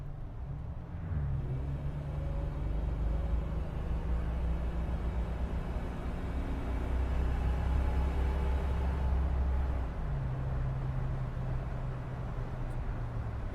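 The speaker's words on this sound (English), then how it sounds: "Slow down a little bit, do another good acceleration." A 2004 Jeep Wrangler LJ Unlimited accelerates hard, its engine rising in a steady loud roar, dropping pitch as it shifts down a gear partway, with constant road and wind rumble, no voices.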